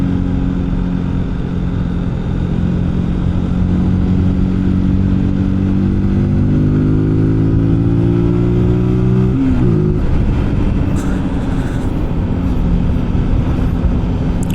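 A 125cc motorcycle engine drones steadily while riding at calm pace, its pitch rising through the gears then dropping at a shift, with wind rush constant and loud near the rider.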